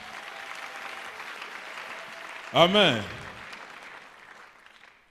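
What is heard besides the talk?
applause for the Lord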